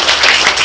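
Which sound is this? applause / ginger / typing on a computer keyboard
applause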